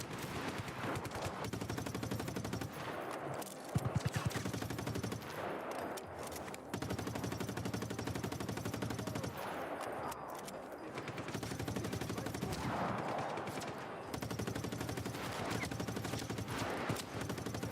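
Rapid bursts of automatic gunfire and heavier blasts from a shooter video game rattle on almost without pause, fairly quiet and steady in level, with brief lulls between volleys.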